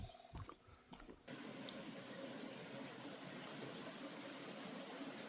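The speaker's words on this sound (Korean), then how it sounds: "계곡 소리가 나긴 하는데" A mountain stream at a campsite, heard as a steady, soft rush of flowing water after a brief quieter moment with some handling noise at the start.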